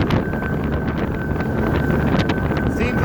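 A Boston Whaler boat runs flat out at about 30 to 35 mph, its engine roar buried under constant loud wind buffeting the microphone, with faint speech mixed in.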